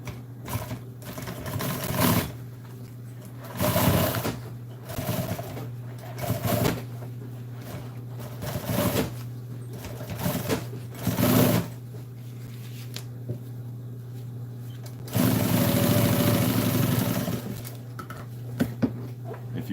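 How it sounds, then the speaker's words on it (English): Close-up bursts of a sewing machine stitching seat upholstery, rapid mechanical clatter in repeated short runs with pauses, one longer stretch near the end, over a steady low motor hum. "why is my sewing machine skipping?"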